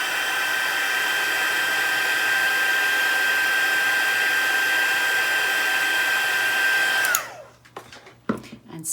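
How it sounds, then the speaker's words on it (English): A heat tool blows steadily over a watercolour painting, making a loud, continuous whirring hum with a high whine that runs for about seven seconds before it is switched off and a few soft handling knocks follow. "we'll hit that with the heat tool."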